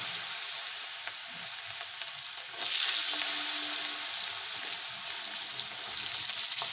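Vegetables for chira pulao, carrots among them, frying in a pan, giving a steady bright sizzle that swells louder partway through as more goes in, alone without talking.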